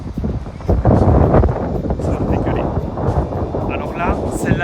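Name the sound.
strong wind blowing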